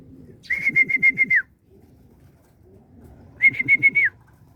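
A racing pigeon arriving at its loft during a fun race gives two short bursts of rapid, repeated whistling notes, fairly close, with a low fluttering rumble beneath and quiet gaps between.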